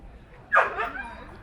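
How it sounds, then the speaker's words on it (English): A dog barks once along a riverside walk in Kingston upon Thames, a sharp single yelp followed by a softer trailing second bark, fairly close over quiet outdoor background. "Mad dog's off again."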